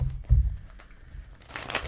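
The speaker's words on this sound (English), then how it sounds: "I feel like I need to shuffle more." Close, crisp rustling and slapping of tarot cards being shuffled in short bursts, with a louder riffle near the start and quieter handling after.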